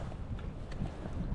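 Steady wind buffets the microphone on an exposed inshore lagoon trail, a constant low rumble with no clear gusts, running alone without voices.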